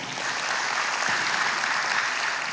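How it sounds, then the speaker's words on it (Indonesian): A church congregation applauds during a sermon, a dense, even wash of clapping from many hands sustained throughout, with no one speaking over it. "Beri tepuk tangan, saudara."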